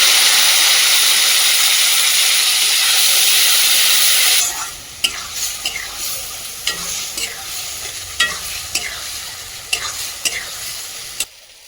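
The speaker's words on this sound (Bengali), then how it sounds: "ধনে গুঁড়ো, লঙ্কার গুঁড়ো, গরম মশলা গুঁড়ো, অল্প সামান্য জল দিয়ে খুব ভালো করে কষাবো।" Ground cumin, coriander, chili powder and garam masala sizzle hard in a hot pan with a splash of water. A loud, steady hiss fades after a few seconds into quieter sizzling broken by repeated spoon scrapes.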